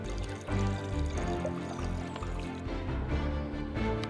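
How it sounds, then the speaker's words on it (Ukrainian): Water pouring and splashing into a bucket, a continuous moderately loud gush with dripping and trickling textures, close by and without speech. "Набираємо в відро воду."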